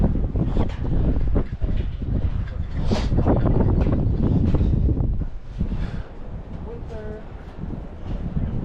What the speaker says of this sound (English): Wind feels amazing.